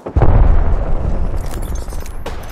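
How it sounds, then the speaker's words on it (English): A grenade bursts in an Apex Legends match, one loud, close blast with a heavy low boom that decays over a couple of seconds into scattered debris and crackle. "Grenade."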